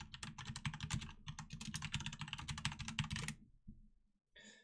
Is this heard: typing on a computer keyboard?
yes